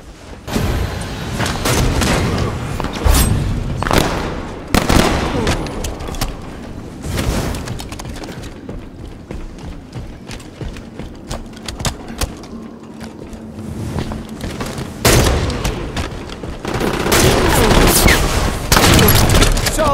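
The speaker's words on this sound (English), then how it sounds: "Solid shotgun kill." Shotgun blasts and other gunfire in a Halo 5 Infection multiplayer match, repeated bursts of loud booming shots at irregular intervals with busy game sounds throughout.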